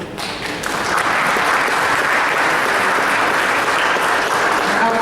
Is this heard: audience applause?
yes